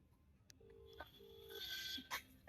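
A mobile phone call to a bike-taxi customer in Guwahati rings out: a few faint, short electronic tones and beeps, heard alone and close.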